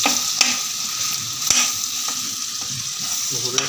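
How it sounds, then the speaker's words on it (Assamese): Onions sizzle steadily in a hot pan, with a few light clicks of a spatula stirring them. "জুইটো কমাই দি ধুনীয়াকৈ এইখিনি ভাজি দিব"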